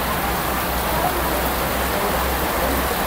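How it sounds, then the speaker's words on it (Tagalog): Heavy rain pours steadily on a flooded area in a dense, continuous hiss, loud and even throughout with no pauses. "Lakas ng ulan, grabe."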